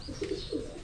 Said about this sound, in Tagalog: Galing magsubo ng mga kalapate.